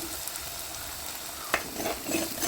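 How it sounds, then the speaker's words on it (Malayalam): Onion and aromatics sauté in a pan for a Kerala-style fish curry, a dense crackling sizzle with stirring scrapes and a sharp utensil knock midway, close and alone without speech. "നന്നായിട്ടൊന്ന് വഴറ്റിയെടുക്കാം."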